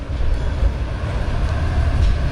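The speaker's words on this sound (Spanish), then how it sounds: "aquí viene otro tranvía." A tram passes by on a street in Bulgaria, a loud, steady low rumble and rolling wheel noise filling the whole stretch, close to the listener with no talking.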